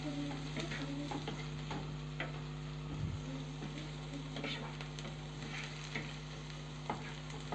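Garlic and pepper frying in a pan, a quiet steady sizzle with a few faint clicks of stirring against a low constant hum.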